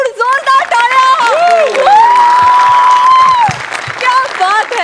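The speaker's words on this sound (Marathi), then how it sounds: "जोरदार टाळ्या." A studio audience on a Marathi comedy show breaks into loud applause and cheering, overlaid by bright swooping tonal effects and voices throughout.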